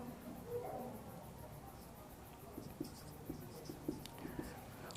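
A pen writes an equation on paper during a maths lesson on linear equations in two variables. A string of faint, short scratches and taps sits at close range in otherwise quiet room tone.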